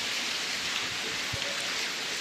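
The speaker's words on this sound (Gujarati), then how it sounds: "ફૂલ વરસાદ ચાલુ છે અત્યારે" Dense, heavy rain pours down in an unbroken hiss under a cloudless sky, with a couple of faint low thumps underneath and no voices.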